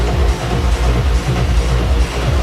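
Light trance music played loud and steady, with a pulsing low beat and a bright layered synth wash running continuously, with no talking over it.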